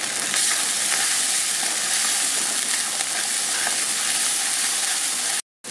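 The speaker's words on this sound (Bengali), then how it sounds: "মশলা ভাজা হয়ে গেছে" Spices with turmeric and salt fry in a pan for a silver carp fish curry, giving a steady close hiss and sizzle with light stirring that cuts out abruptly near the end.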